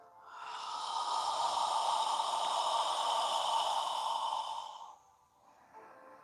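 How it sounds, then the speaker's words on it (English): One long, steady breath blown out through the mouth during a yoga arm movement, a close, airy whoosh lasting several seconds before fading, followed by a faint softer breath. "exhale through your mouth as you lower your arms and hands down"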